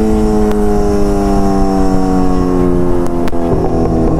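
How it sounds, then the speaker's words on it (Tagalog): A motorcycle idles with a steady, loud engine drone, broken by a few sharp pops and cracks from the exhaust. "mahilig pa putok-putok ang motor ko yan"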